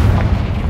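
A Confringo spell explosion in Hogwarts Legacy bursts as a short, heavy boom with a deep low-end rumble, loud and alone for under a second.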